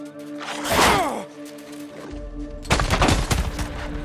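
Gunfire in the video game Days Gone: a loud burst of shots around the one-second mark, then a denser spell of sharp cracks and rattles in the last second and a half over a steady game soundscape.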